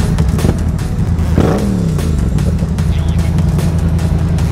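A vehicle engine is given gas in a loud burst of revving that climbs and falls, close by, over a continuous rough idle and background rumble.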